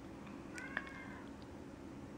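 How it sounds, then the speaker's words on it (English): A house cat meows from the next room, one short distant call with a faint rising tone, heard over a steady indoor hum. "I hope her meowing isn't gonna distract you from this reading"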